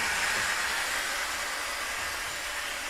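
Train brakes applying after the dead man's handle is released, a loud steady rushing hiss of air held without break for a few seconds, alone with no talk.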